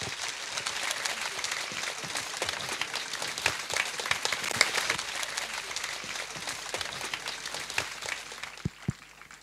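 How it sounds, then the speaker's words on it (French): An audience claps steadily to welcome a speaker, with dense, sustained applause that holds for several seconds and thins out toward the end. "Je vous demande de l'accueillir avec tous vos applaudissements"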